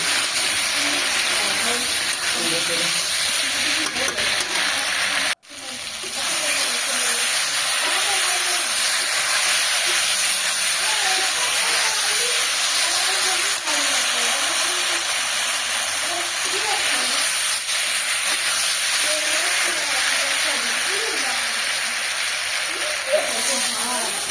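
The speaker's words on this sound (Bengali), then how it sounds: "এবার নেড়ে একটু ভালো করে আর কি কষিয়ে নেব" Tomatoes and green chilies sauté in a pan for a bengali rohu fish curry, giving a steady, loud sizzling hiss throughout with one brief dropout near the start; a voice may be faintly present beneath it.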